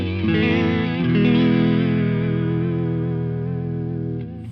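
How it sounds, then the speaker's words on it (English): A sustained guitar chord through the Rabbit Tape plugin's wonky guitar tape preset, with a warbling, wobbly pitch and heavy chorus-like distortion, wavering unsteadily before cutting off. "So this is wonky guitar."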